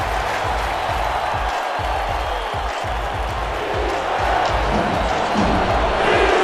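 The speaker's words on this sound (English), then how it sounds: "Crowd loudest they've been today." Loud stadium crowd roaring and cheering at a New York at Cleveland football game, a dense sustained wall of noise that builds toward the end, with no clear voices standing out.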